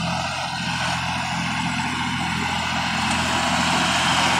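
A Swaraj 744 FE tractor pulling a seven-foot Fieldking rotavator through a field, its engine a loud, steady, close diesel drone with a constant grinding roar and no pauses.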